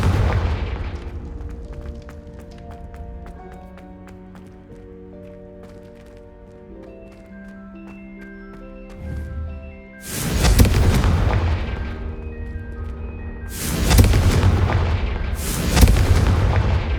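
Repeated Confringo fire spells blast in Hogwarts Legacy, loud booming bursts arriving about three times in the second half after a quieter stretch of sustained musical tones.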